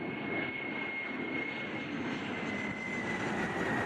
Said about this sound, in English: So let's start our engines with page up and page down.